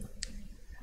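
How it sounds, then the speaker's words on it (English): A computer mouse button clicked once or twice in quick succession, a faint, sharp tick in a quiet room. "you want to double click on this"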